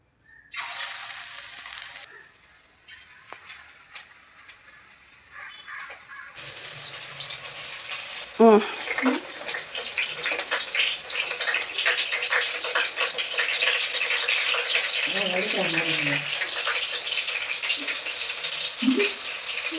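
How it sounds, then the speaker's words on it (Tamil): Prawn bajji fritters dropped into shallow hot oil set on a low flame, with a steady bright frying hiss that swells after a few seconds and holds, plus occasional clinks of utensils. "இப்போ பஜ்ஜி போட்டு எடுத்துக்கலாம். பஜ்ஜி போட்டுக்கலாம்."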